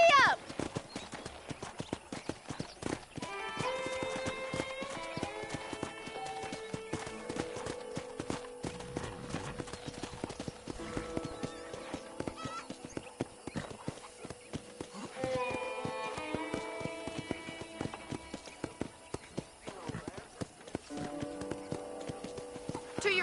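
Horse hooves in the Red Dead Redemption video game, a steady rapid clip-clop of galloping that runs throughout under ongoing talk and background music.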